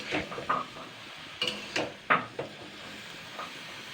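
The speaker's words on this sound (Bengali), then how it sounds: "এবার আমি এগুলোকে কিন্তু ভালো করে আগে নেড়ে চেড়ে নেবো তিন চার মিনিট ধরে" A spoon scrapes and knocks against a pan while potatoes and tomatoes are stirred for an oil-free vegetarian spinach dish, giving a few soft, irregular clinks and scrapes over a faint background hiss.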